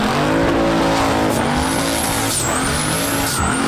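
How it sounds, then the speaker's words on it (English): A 1600-horsepower Hemi-powered Dodge Durango does a burnout on a skid pad, its engine roaring loud and steady throughout while high, wavering tire squeal rides on top, with no voices. "It does not like doing straight line burnouts."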